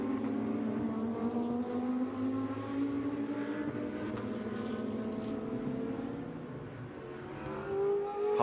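GT2 race cars at the Valencia circuit driving up through turn 6, their engines blending into a steady, droning whine with several overlapping tones that slowly shift in pitch as the field corners.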